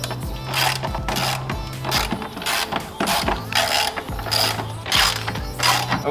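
A ratchet wrench loosens 13 mm bolts on a Jeep Wrangler JL spare tire carrier, making close, rapid clicking pawl bursts in repeated strokes with short pauses between them and no talk.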